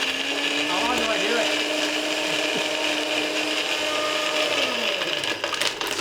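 A countertop blender pulses a whiskey slushy cocktail with ice, giving a loud whirring drone with chunks rattling against the jar while people talk over it.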